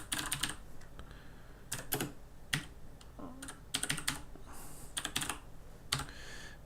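Bursts of computer keyboard typing, quick clustered clicks in short runs separated by pauses, close and fairly quiet with no talk over them.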